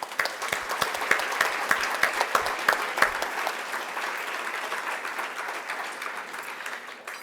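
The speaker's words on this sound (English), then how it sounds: "Let's give everyone a big round of applause" An audience at a Making Strides breakfast fundraiser applauds steadily for several seconds, a dense wash of clapping with a few sharper claps near the start, tapering slightly toward the end.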